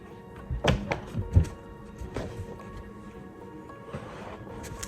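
A ball bouncing indoors, a few dull thumps in the first second and a half, then scattered softer knocks, with faint background voices and room noise.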